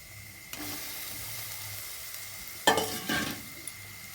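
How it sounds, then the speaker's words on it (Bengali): Fried okra, potatoes and carrots are stirred into a cooked spice mixture with a little added water: a faint sizzle, then a clear scrape and clatter of the spoon with a hiss of steam, close by, no talk. "এর মধ্যে আর একটু জল দিয়ে ভেজে রাখা ভেন্ডি, আলু, গাজরগুলি আমি মিশিয়ে নিচ্ছি।"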